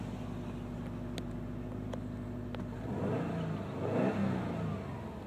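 A 2012 Subaru Impreza WRX STI engine idles steadily, then rises into a loud, close rev around the three- to four-second mark before settling back, with no talking.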